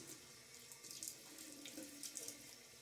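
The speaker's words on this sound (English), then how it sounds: "A little quick rinse." Water runs steadily into a sink for a quick face rinse while shaving, with a soft splashing hiss, close by and continuous, with no voices.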